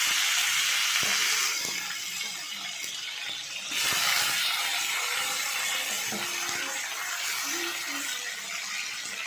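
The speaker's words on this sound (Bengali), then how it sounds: "এবারে একটা কোচানো পেঁয়াজ আর টমেটোটা তেলের উপরে দিয়ে" Chopped onion and tomato go into hot oil already tempered with black cumin and dried chillies, giving a soft, steady hissing sizzle with a few light clinks of a spoon against the pan.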